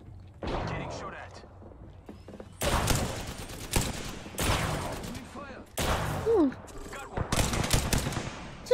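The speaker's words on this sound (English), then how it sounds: "Getting shot at." Rapid bursts of gunfire from the battle royale shooter Apex Legends, several loud automatic volleys in clusters with short gaps, close and sharp, mixed with game effects.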